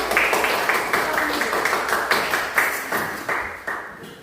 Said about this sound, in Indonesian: berikan semua tepuk tangan untuk kelompok